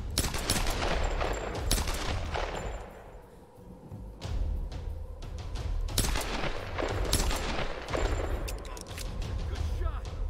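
Rapid bursts of gunfire from the video game Tomb Raider crack out repeatedly across the whole stretch, dense volleys with short lulls, heavy thuds underneath and a voice talking at times over the shooting.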